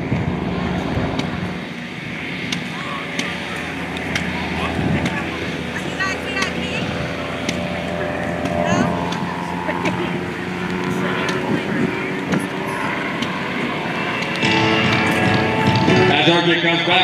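Decathlon aerobatic airplane engine droning steadily through a slow roll at an airshow, distant and constant beneath an announcer's continuous commentary with some wind noise.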